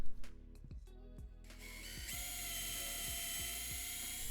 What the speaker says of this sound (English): I'm going to use that drill bit to drill down a few millimeters into the plate